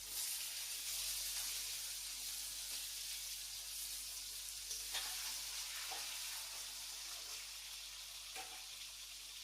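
Vegetables, papaya and potato with bay leaf for Bengali shukto, sizzling in hot oil in a wok; a soft, steady frying hiss throughout with occasional light stirring clicks, close and fairly quiet.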